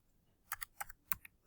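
Calculator keys being pressed for an algebra rounding problem, five or six quick crisp clicks in a short uneven run, close and alone in a quiet room.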